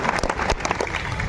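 Audience applause at a comedic speech in Buldhana, a brief burst of crowd clapping with distinct sharp claps, fairly close and lively.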